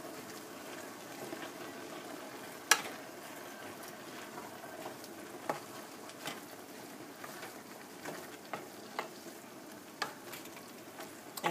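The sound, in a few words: stirring cabbage soup mixture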